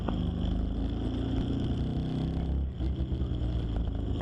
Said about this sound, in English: my daily commuter, my Honda rs150